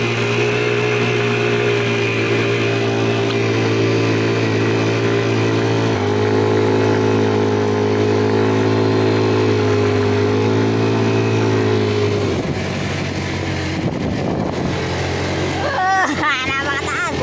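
A motorized tricycle labors uphill, its engine droning loud and close in a steady strained hum that shifts pitch partway through, then eases as a voice speaks briefly near the end.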